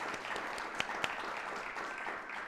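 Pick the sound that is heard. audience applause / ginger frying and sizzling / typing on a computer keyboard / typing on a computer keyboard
audience applause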